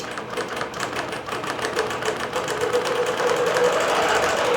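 A computerized quilting machine runs steadily while stitching a narrow border pattern, giving a continuous rapid mechanical chatter of needle strokes at close range that grows slightly louder toward the end, with no talking.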